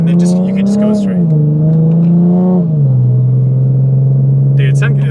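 A straight-six MK5 Supra with a custom MK4 Supra exhaust drones loud and close, its pitch rising and falling as the engine revs, with a raspy rumble and voices briefly at the edges.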